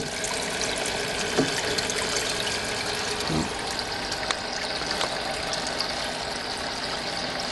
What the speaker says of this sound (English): Actually ends up letting the water flow from here into this tank a lot faster.